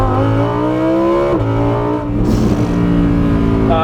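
The V10 engine of a 2018 Lamborghini Huracan Performante Spyder revs hard and close, its pitch climbing then dropping briefly before surging again, a loud, powerful, high-strung roar.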